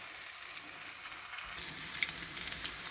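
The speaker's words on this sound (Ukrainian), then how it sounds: "Ось так сирнички смажаться, перевертаються" Syrnyky, cottage cheese pancakes, sizzle steadily in a frying pan over medium-low heat, a constant bright hiss with small pops and crackles and no talking.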